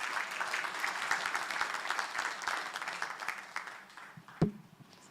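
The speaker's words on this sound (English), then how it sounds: "Please give him a big round of applause." An audience at a celebration event applauds steadily for several seconds, a dense patter of clapping that thins toward the end, with a brief thump near the close.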